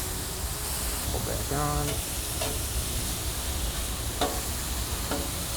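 Onions sizzling on a Traeger griddle, a steady broad hiss of frying that runs the whole time under a few short spoken words.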